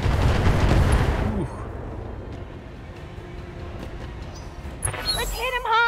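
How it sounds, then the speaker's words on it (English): Incoming rockets exploding in the BattleTech video game, a dense burst of rumbling blasts and rapid impacts loud at first, then fading into a lower rolling rumble, with a voice briefly reacting near the end. "there's a lot of rockets coming in"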